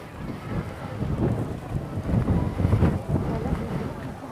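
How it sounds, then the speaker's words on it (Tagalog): Wind blowing against the microphone outdoors at a high hillside spot in Taytay, Rizal, a loud rough buffeting that swells and gusts unevenly throughout, with no voices. "Kusang hangin."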